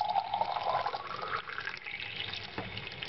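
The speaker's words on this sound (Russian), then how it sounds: "Вот заливаю холодную воду." Cold water pours steadily into a VAZ car thermostat, with a splashing, gurgling rush that gradually softens, close by and without talk.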